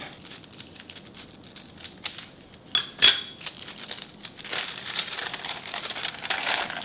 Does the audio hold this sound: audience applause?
no